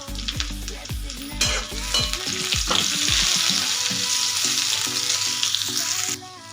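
Onion masala fries in oil for Maharashtrian amti with a loud, continuous hissing sizzle that builds and holds close up. A quick run of metallic spatula taps against the pan comes early on, and the frying stops abruptly near the end.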